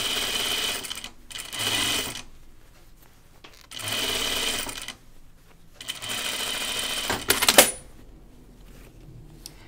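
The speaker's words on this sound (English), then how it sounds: "So we're gonna add our stay stitch along the cap." Sewing machine stay-stitching along the sleeve cap of a Named Clothing Reeta shirt dress: several close, loud bursts of stitching separated by short pauses, with a brief clatter near the end and no talking.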